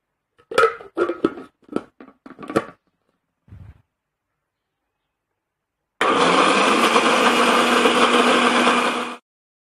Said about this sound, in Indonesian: Jadi sekarang kita blender ya.